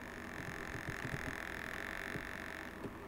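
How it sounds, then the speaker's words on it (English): A piezo buzzer driven by a PIR motion sensor holds a faint, steady high-pitched tone from start to finish over low background noise. "So that is the sound of the piezo buzzer."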